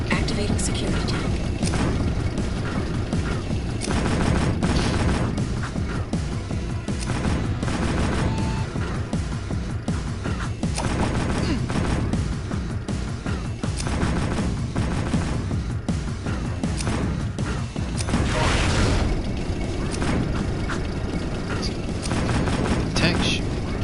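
Dense, continuous bursts of gunfire and booms from sentry guns in the video game Jak 2, layered with game music and a talking voice, staying loud and busy throughout.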